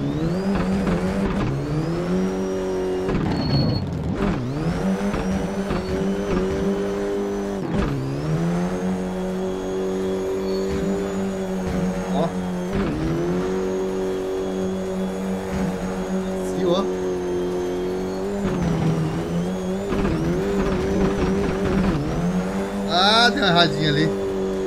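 A four-cylinder Toyota Corolla hatchback drifts in the racing game Assetto Corsa, its engine revving hard in repeated surges with sharp drops between shifts and brief tire squeals, while someone talks over it.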